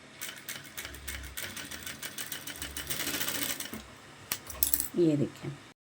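Sewing machine stitching fabric while making a chatta patti folded corner, rapid mechanical whirring in short bursts with clicks and rustling, fairly close.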